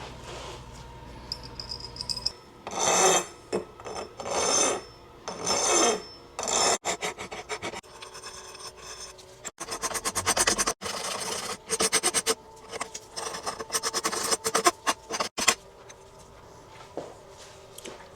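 A metal file rasps across the cast surface of a muzzleloader part to remove casting marks, in repeated rhythmic strokes, close and fairly loud, with short pauses between bursts.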